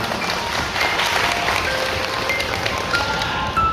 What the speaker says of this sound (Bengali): আমরা এইচএফপিও ম্যাডামের সম্মানার্থে একটি জোরে করে হাততালি দিই।